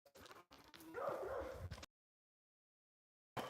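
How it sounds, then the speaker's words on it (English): Dogs yip, whimper and bark outdoors on an Alaskan night during meteor-shower watching, heard faint and somewhat distant in a short burst before a silent gap and a brief return. "my dogs were going nuts"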